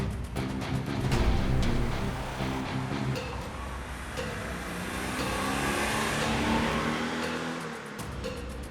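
A fully restored 1972 Honda car's engine hums and revs steadily while driving, with road noise rising and falling; no talking.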